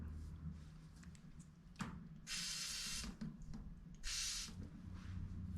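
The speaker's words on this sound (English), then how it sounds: "I'm going to put some WD-40 on here to clean it." WD-40 is sprayed onto a fishing reel to clean it in two short hissing bursts separated by a pause, with light handling clicks in between.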